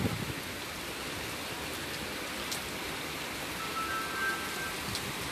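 Steady rain falls in an even, hissing wash of drops that continues throughout, with no talking over it.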